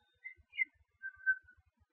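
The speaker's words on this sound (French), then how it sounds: "C'est bien sifflé." Whistling in the game Eldarya: a few short, clear, tonal whistled notes, faint and sparse with quiet gaps between them and soft low thumps underneath.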